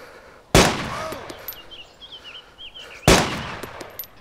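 Two loud, sharp gunshots ring out in the video game DayZ about two and a half seconds apart, each trailing off, with faint chirping game ambience between them.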